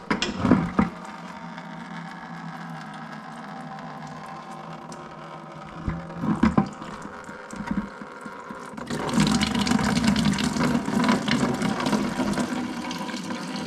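Coolant draining from a Toyota A90 Supra during intercooler removal, a steady trickle and splash of liquid with a few knocks early on, swelling into a louder, fuller gushing pour toward the end.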